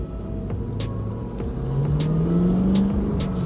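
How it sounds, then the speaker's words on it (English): Cadillac Blackwing sports car engine revving up in a steady, rising drone that grows louder toward the end, heard up close with a faint ticking overhead and no talking. "The car sounds incredible."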